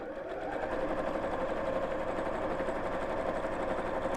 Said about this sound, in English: So now I'm sewing a little bit wider than that seam allowance